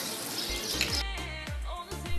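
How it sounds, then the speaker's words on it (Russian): Water running from a free public shower, a steady hiss of spray with a few low thumps and splashes as it strikes the floor and body. "Мы нашли бесплатный душ и решили помыться."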